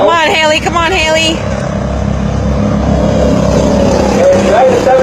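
Mini trucks race around a track with a constant, loud engine drone, and excited talk and cheering over it near the start.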